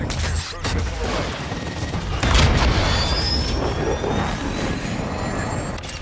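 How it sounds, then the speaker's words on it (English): A cruise missile strike in the video game Call of Duty: Modern Warfare II, a jet-like rush followed by a heavy boom and rumbling impact amid ongoing battle noise and gunfire, loud and close. "Cruise missile away."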